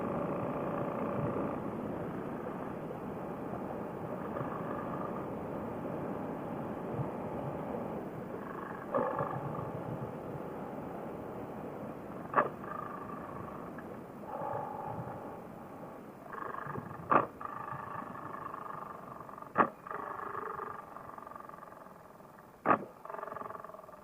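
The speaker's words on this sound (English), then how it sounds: "That is definitely a GP exhaust. It's loud as hell, but it makes everything worth it." An Indian Scout motorcycle fitted with a Handmo Shorty GP exhaust runs on the road with a deep, loud, rumbling growl. The engine note rises and falls steadily, broken by a few sharp pops and bursts.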